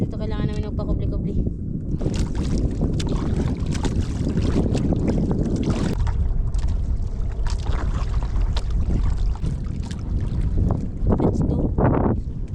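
Strong wind buffets the microphone in a steady, loud roar, with a voice talking over it throughout.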